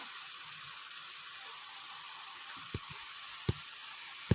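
Cut boiled eggs frying in masala in a pan: a soft, steady sizzle throughout, with a few sharp taps of a spoon against the pan toward the end.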